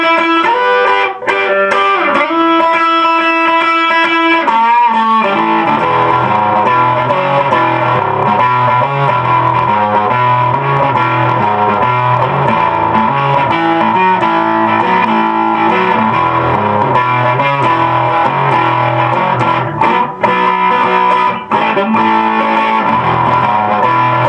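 Electric guitar plays through a Bugera 333XL 2x12 120-watt tube combo amp with overdrive engaged, giving loud, continuous distorted chords and ringing sustained notes throughout without speech.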